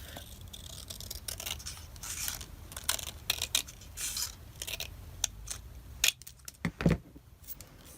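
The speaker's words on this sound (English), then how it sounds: "I'm going to cut this one in half." Scissors slice through a sheet of paper nearby, making a series of crisp, uneven snips and rustles in a quiet room.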